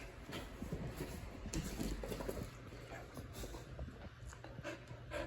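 A dog pants steadily and close by, quick rhythmic breaths with faint pattering and shuffling, heard in a quiet room just before being taken out for an evening walk.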